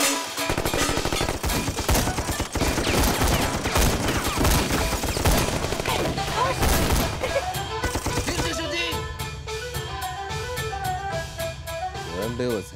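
Heavy machine-gun and rifle fire in a war film battle scene in a village, a sustained dense barrage for several seconds that gives way to scattered shots under music, with shouting voices mixed in.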